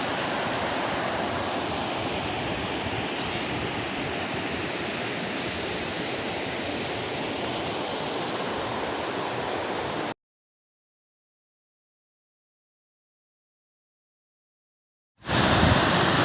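Strong, steady rush of a fast-flowing Pyrenees mountain stream near the Araing refuge, a dense broadband roar filling the first ten seconds, then a gap of silence before the torrent returns loudly.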